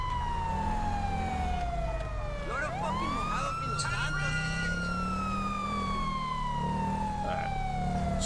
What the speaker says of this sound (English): We'll cut the siren once we get a little close.